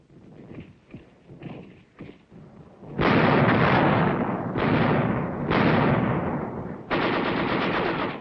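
Korean War artillery and machine gun fire from 1951 opens with scattered shots, then breaks into loud, dense sustained bursts of gunfire separated by short pauses, close and overwhelming.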